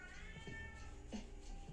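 A cat meowing faintly indoors, a drawn-out mew and a shorter one over low background noise.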